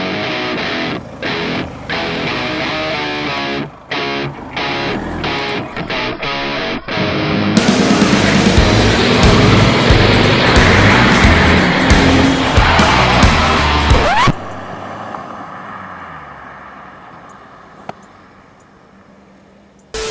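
A car driving fast in a staged recreation of a Bugatti Veyron commercial, loud and continuous engine roar with tire noise, most intense in the middle before dropping to a fading rumble.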